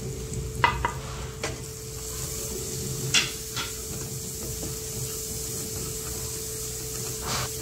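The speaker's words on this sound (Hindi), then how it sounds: "एक मिनट के लिए मसाले को भून लेंगे।" Ground spices such as coriander, red chilli, cumin and garam masala frying in a pan for chole, a steady close sizzle broken by occasional clinks and scrapes of a spoon stirring.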